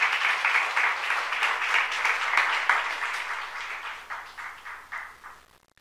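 A church congregation claps steadily for several seconds in a dense, loud burst of applause that thins out and fades toward the end.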